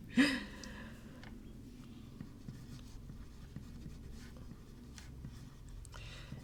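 A broad oblique fountain pen nib with a heart-shaped breather hole scratches softly across paper in short strokes, faint and close with a quiet room hum beneath.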